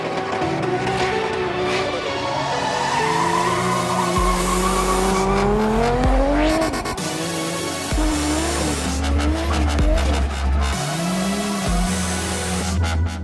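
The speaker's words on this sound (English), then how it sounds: "Yet another successful shredding of some tyres, so back to the pits." Drifting car at Santa Pod shredding its tyres, with loud sustained squeals sliding up and down in pitch over a roaring engine that rises and falls for the whole stretch.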